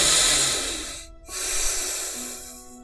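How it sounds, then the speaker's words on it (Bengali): A person seated or lying down takes a long, deep breath, a steady airy inhale followed by a brief pause and an equally long, close exhale, with no talking. "আপনি বর্তমানে যেখানে আছেন সেখানে বসে বা শুয়ে থেকেই একটি দীর্ঘশ্বাস নিন"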